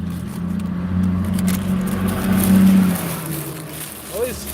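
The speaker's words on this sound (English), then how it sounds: "All these super loud trucks keep driving past." Loud trucks roar past on a road while someone plays Pokémon GO outdoors. A heavy engine rumble rises and fades over several seconds, and a voice speaks faintly underneath.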